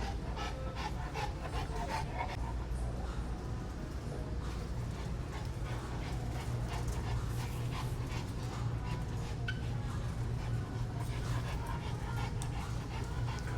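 A 145 lb Cane Corso pants steadily inside a busy pet supermarket, rapid breaths running under a constant store hum with faint dog whimpers and clinks scattered through.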